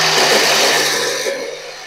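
A kitchen mixer grinder whirs loudly and steadily, powdering sugar with cardamom pods, its motor pitch shifting slightly as it runs close up before easing off near the end.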